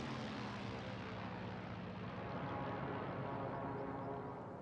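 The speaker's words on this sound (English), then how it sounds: "The aircraft sound incredible." Propeller aircraft droning overhead in the video game Warzone Pacific, a continuous loud engine roar filling the scene with a slight swell, no voices.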